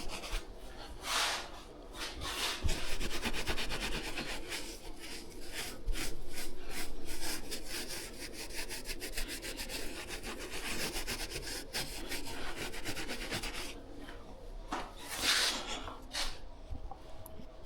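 Steady rubbing and scuffing across a painted whitetail deer mount, scraping white paint off the hair with a brisk, continuous back-and-forth rasp, close and moderately loud, no talking.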